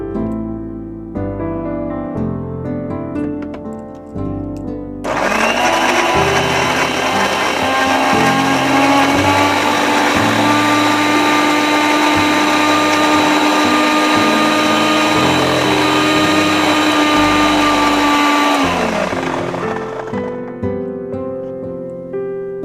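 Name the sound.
blender making a puree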